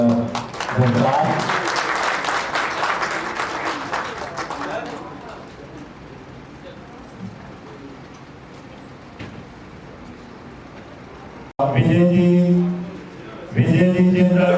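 Audience applause at an Indian cultural event honouring service to disabled and needy people, a dense clatter of clapping that thins out, followed by a speaker's voice over a PA.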